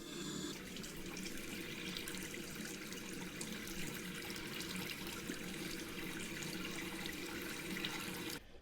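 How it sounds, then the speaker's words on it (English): Hot water runs steadily from a bathroom tap during face washing, a continuous close hiss and splash lasting several seconds at low level, with no talking. "I do wash my face with hot water"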